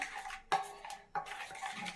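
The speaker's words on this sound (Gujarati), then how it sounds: "હવે ચમચીથી મિક્સ કરી લઈશું" A spoon stirs oil and asafoetida quietly in a bowl for thepla dough, with two sharp clinks against the side amid soft scraping.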